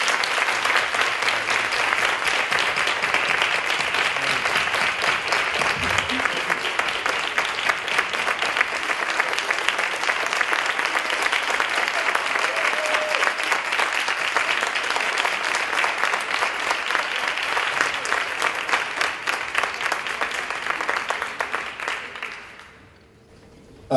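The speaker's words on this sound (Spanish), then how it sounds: "Un aplauso para ellos" Sustained applause for student representatives at an Argentine dance council ceremony, dense and even clapping from a large audience lasting over twenty seconds before fading out near the end.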